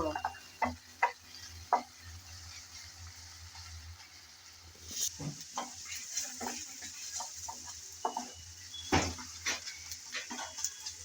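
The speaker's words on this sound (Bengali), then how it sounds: "তেল গরম হয়ে গেছে গরম তেলে দিয়ে দিলাম পেঁয়াজ কুচি পেঁয়াজ কুচি দিয়ে এখন নেড়ে চেড়ে ভালোভাবে একটু ভেজে নেব" Chopped onion goes into hot oil and is stirred around the pan, heard as a quiet background sizzle broken by scattered clicks and scraping knocks of a spatula, with no talking.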